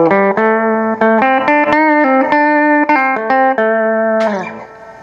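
Electric guitar played through a cheap budget delay pedal into a 1966 Fender Twin Reverb amp with a little reverb, a clean run of single plucked notes and short phrases, loud and close, ending in a fading echo tail.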